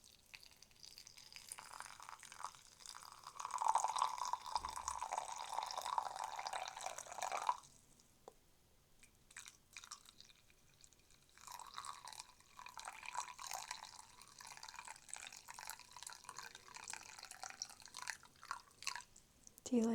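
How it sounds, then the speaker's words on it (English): Hot water is poured into a cup, giving a close, soft trickling fill with gentle drips that starts and stops twice in a quiet indoor setting with light background murmur. "Along with this hot water I freshly brewed."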